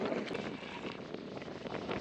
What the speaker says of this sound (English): I think the wind is worse than when I got out here